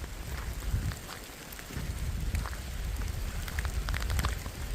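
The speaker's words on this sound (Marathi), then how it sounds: "पाऊस पडायला लागलाय." First monsoon rain arriving over a village, big drops pattering on surfaces in a steady, soft wash with a low rumble beneath, faint and continuous with no voices.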